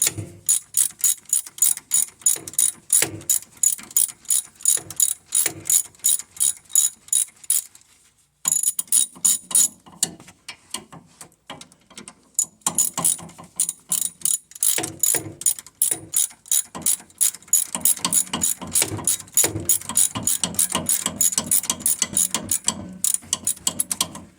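A ratchet cranking on a car half shaft: rapid, loud, close clicking of the pawl in continuous runs, with one short pause partway through and a few irregular bursts of cranking, with no speech.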